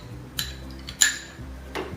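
Bloomed agar and cream drop into a pan over a medium flame, giving three brief clinks and taps of utensil on pan spaced across two seconds, with no talking.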